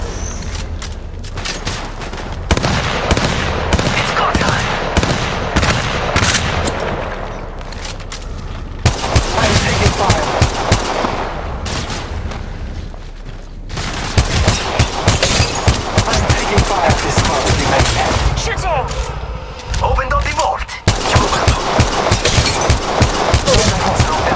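Near-continuous gunfire in the mobile video game Apex Legends Mobile, loud bursts of automatic fire with brief gaps and a few heavier booms, under occasional voice callouts.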